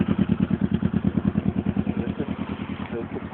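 A motorcycle engine idling with a steady, rapid pulsing chug and some mechanical clatter, close and moderately loud, easing slightly toward the end.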